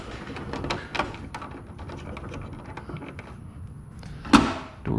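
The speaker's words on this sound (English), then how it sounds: "Door shuts, get it plugged up." A garage service door shuts with a sharp bang during a garage door opener install, one loud impact near the end after quiet handling noises, no talk.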